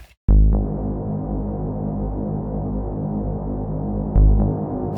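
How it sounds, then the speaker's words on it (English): Synth tone processed through Ableton's Echo delay with post-reverb and a long decay, a sustained humming throb that starts abruptly, swells again near the end, and rings on alone. "you put it up and you get the reverb"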